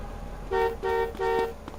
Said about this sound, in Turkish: Korna çalıyor lan ne bip sesi